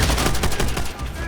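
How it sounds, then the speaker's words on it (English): Rapid, rhythmic machine gun fire in the WWII video game Hard Landing, a dense run of loud, close bursts that continues steadily and fades a little near the end. "We then encounter a friendly squad under heavy MG fire from a building filled with Imperial forces"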